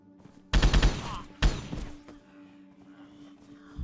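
Gunfire in the survival game DayZ on the Chernarus map, with two loud close bursts of rapid shots separated by a short gap, then fading echoes and quiet background hum.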